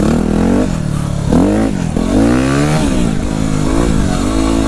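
Yamaha WR250R dirt bike revving hard during a wheelie on the trails at Carnegie SVRA, loud and close, with the engine pitch climbing and dropping through several throttle blips and a rattling clatter.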